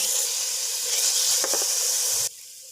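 Chicken frying with garlic and ginger in a pan on medium heat, a steady loud sizzle and hiss that carries on nonstop, then drops suddenly to a quieter sizzle near the end.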